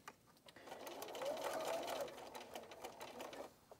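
A sewing machine stitches a fabric bowl cozy in a slow, steady run that swells in the middle and holds on for several seconds, fairly faint and heard alone.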